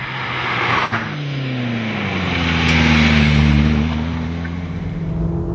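A Ford Focus RS hot hatchback driving on a dry road up onto the moors, its engine a steady droning hum that climbs in pitch as it pulls, mixed with heavy road and wind noise from inside the car.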